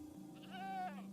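A goat in the Minecraft video game gives a single wavering bleat, faint and short, over a steady low game hum.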